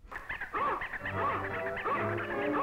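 Cartoon dog from an early-1930s Scrappy animated short yipping and whimpering in short bursts over a tinny, old-fashioned soundtrack, with faint background music.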